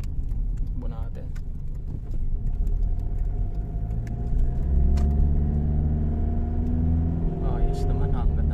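A Mitsubishi Pajero with a 4M41 diesel engine on a road test gives a steady low rumble from inside the cabin as it drives, with a person talking throughout.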